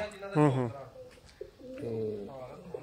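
Pigeons cooing close by, a couple of throaty, rolling coos separated by a short pause.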